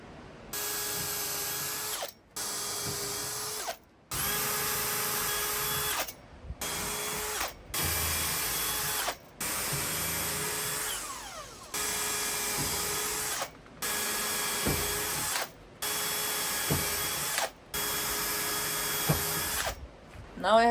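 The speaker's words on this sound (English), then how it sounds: "Last step before painting now is to drill the holes for the handles." A power drill boring holes for the handles on wooden kitchen cabinet doors, running in repeated bursts of a few seconds each separated by short pauses, close and loud.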